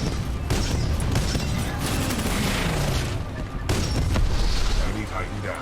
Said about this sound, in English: Something about the 40mm explosive anti-tank gun